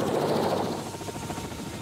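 Helicopter at a ski-resort heliport in Saint Moritz, a steady rotor and engine roar running close and fairly loud throughout, with a faint thumping texture and no talk.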